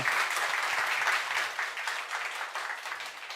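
An audience applauds in a Korean lecture hall as a professor is introduced, a dense, steady wash of clapping from many hands that fades slightly toward the end.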